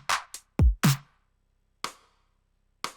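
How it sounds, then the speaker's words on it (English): A dry drum stem with a kick whose top end is bit-crushed, a few isolated hits spaced apart: a booming kick with a gritty, distorted attack, plus sharper snare-like strikes, each separated by silence. "There's a bit of bit crushing on the top end of the kick there, you can hear."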